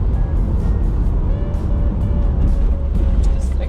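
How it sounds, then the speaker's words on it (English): A 1994 Toyota Corolla 4WD on a test drive, its engine and road noise forming a steady, fairly loud drone from inside the moving car, with no clear change in pace. "But why would you want to do a test drive in a 1994 Corolla?"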